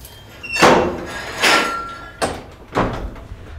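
Door into a small underground vault, opened after descending stairs: four separate knocking, creaking bangs spaced about a second apart, fairly close and loud, with no talking.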